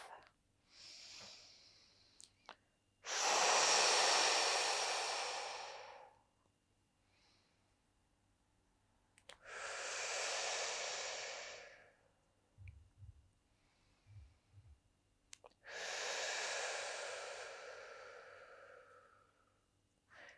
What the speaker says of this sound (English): Now, big breath.